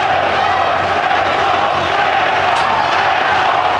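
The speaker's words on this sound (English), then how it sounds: "The crowd chanting Zeljko" Boxing arena crowd chanting a fighter's name, Zeljko, during the Lennox Lewis versus Zeljko Mavrovic bout; a dense, steady roar of many voices fills the whole moment without pause.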